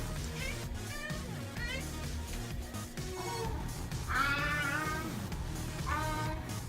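A cat meows and chatters repeatedly in several drawn-out, rising calls close by, with a steady background hum and faint movement underneath.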